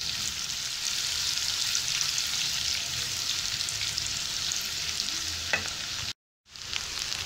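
Onions frying light brown in a pan, a steady close crackling sizzle, a single clink of a utensil, then a brief silent gap before the sizzle resumes.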